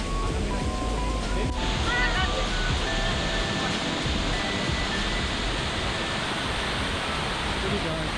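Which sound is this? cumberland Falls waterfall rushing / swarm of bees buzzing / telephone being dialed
cumberland Falls waterfall rushing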